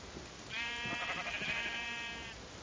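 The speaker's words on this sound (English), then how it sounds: "Oh, sheep, finally." A Minecraft sheep gives a single bleat of about two seconds, wavering and nasal, fairly clear against a quiet game background.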